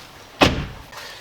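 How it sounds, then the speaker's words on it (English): A BMW 1 Series F20 car door swings shut with a single solid thud and a short latch clunk, close and loud, then a quiet tail with no talking. "Now if I close the door"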